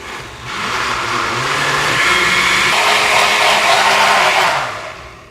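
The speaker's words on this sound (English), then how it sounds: "This is a very full blender because we're making a very nice flan." A very full blender whirring through flan de queso ingredients for Puerto Rican flan, a loud steady motor roar that starts abruptly, holds for several seconds with a slight pitch shift, then winds down.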